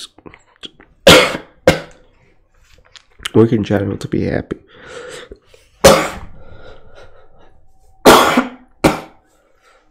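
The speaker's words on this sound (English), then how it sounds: "Sorry again for the coughs." Several loud, sharp coughs burst out at intervals, close to the mic, with a person speaking briefly between them.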